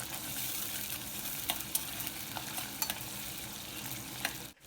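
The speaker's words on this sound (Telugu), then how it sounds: "ఒక హాఫ్ స్పూన్ జీరా అలాగే ఒక హాఫ్ స్పూన్ ఆవాలు ఒక వన్ స్పూన్ వరకు మినపప్పు వేసుకుని ఫ్రై అవనిద్దాము" Cumin, mustard seeds, urad dal, green chili and curry leaves fry in hot oil with a continuous soft sizzle, punctuated by scattered sharp pops and crackles and a final clatter at the end.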